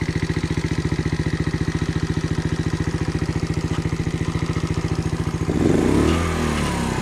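Skyteam Dax 50cc injection motorbike from 2020 idling up close, a steady rapid putter that shifts near the end into a rougher, louder burst as the engine note changes.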